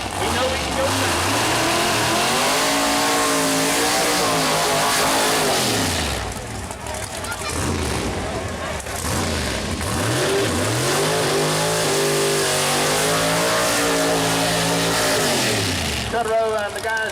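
A 1941 Willys Pro Mod drag car's engine revs hard at Mooresville Dragway in a heads-up door slammer race. The loud, rising and falling roar keeps going throughout, with talk over it.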